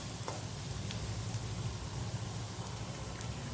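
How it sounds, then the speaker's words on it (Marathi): Onion frying in hot oil, a dense continuous crackling sizzle like light rain, close and steady with a couple of faint utensil taps. "आता आपल्याला कांदा ना जास्त काळपट भाजायचा नाही आहे फक्त त्याचा कच्चटपणा जाईल नाही एवढंच भाजायचं आहे"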